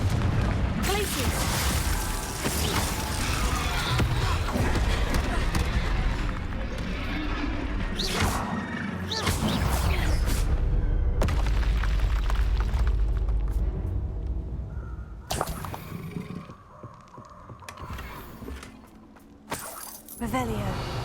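Spell blasts from the Confringo fire curse and Glacius freezing charm in the Hogwarts Legacy video game: loud, dense booms and crashing bursts with sharp transients, continuous for about twenty seconds under game music and a voice calling out.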